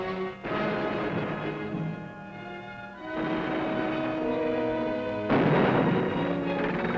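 WWII covering fire on Peleliu: heavy, rumbling artillery and gunfire in sustained rolling waves, with loud blasts near the start, around three seconds and again near five and a half seconds, dense and booming with no voices.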